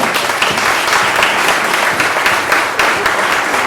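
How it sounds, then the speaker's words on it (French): An audience applauds warmly at a youth short-story prize ceremony, a close, full burst of clapping that holds steady from start to finish. "on l'applaudit bien fort"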